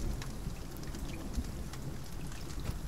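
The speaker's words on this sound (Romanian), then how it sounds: "Și încă plouă." Steady rain falls in the video game The Forest, a dense, even hiss of drops with occasional louder patters, continuous and moderately close with no voices.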